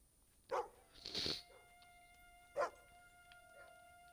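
Dog barks in the Fable 2 video game, a few sharp yips spaced across a quiet stretch, moderately faint over a steady background tone.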